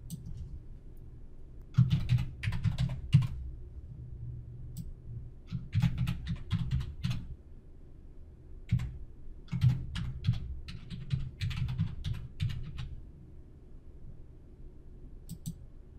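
Someone types on a computer keyboard in a quiet room, with short bursts of quick key clicks separated by brief pauses.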